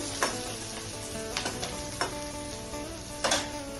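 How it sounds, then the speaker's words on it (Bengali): Onions fry in a pan with cumin, coriander and fenugreek, a close, steady sizzle with a few sharp scraping stirs of a spatula, and no one talking. "এইভাবে পেঁয়াজগুলোকে ফ্রাই করে নিচ্ছি।"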